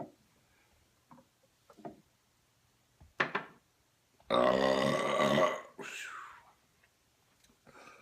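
A loud, drawn-out burp from a man drinking Sam Adams beer, about a second long, in a quiet room, followed by a fainter trailing belch and a few soft knocks before and after.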